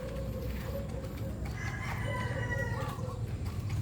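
A labuyo jungle fowl rooster crows once, a clear, fairly near call rising over a low rumbling background and faint clucking, with no talking.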